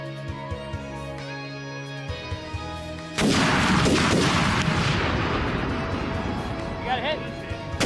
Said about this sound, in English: they were forced to fire their cannons into the city again